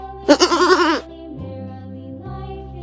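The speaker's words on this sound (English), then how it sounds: "G is for goat with a funny bleat." A wavering, quivering goat bleat lasting under a second, loud and near, followed by quiet background hum and a brief sound at the very end.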